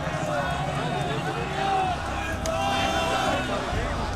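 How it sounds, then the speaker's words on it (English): An agitated mob surrounds the KGB headquarters in Dresden at night, a dense, continuous roar of many voices and shuffling bodies, loud and close, with individual shouts rising out of the crowd noise. "A mob surrounded the building."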